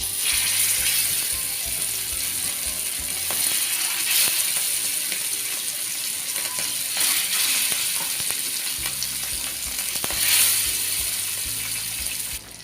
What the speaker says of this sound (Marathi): आता हे मासे आहेत आपण फ्राय करून घेऊया